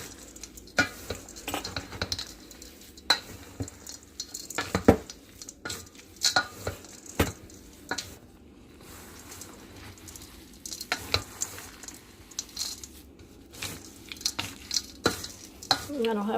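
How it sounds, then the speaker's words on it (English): Dry energy bar ingredients stirred with a wooden spatula in a bowl, giving soft scraping and rustling strokes with frequent light knocks and clinks against the bowl, close and fairly quiet, with no talking. "we're supposed to mix it well. I like using a wooden spatula or wooden spoon"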